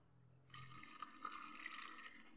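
A glass of water is poured into a cooking pot holding eggplant, a steady splashing pour that starts abruptly and runs for about two seconds, fairly quiet and close.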